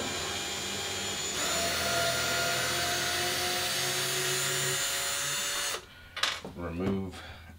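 Ryobi power drill removes screws from an RV stove, a loud steady whir for several seconds that cuts off abruptly, followed by brief handling noises.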